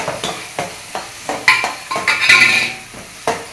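Ginger garlic paste and pepper sautéed in a pan for a spicy prawn thokku, a spoon scraping and clinking in steady strokes over a bright, close sizzle, alone with no talk.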